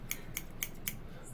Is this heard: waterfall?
no